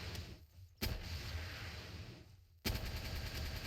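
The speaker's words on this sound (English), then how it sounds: "This grenade launcher thing is so funny." Grenade launcher fire in the video game Palworld: two sharp, punchy blasts about two seconds apart, each followed by a rumbling noisy tail, all fairly quiet.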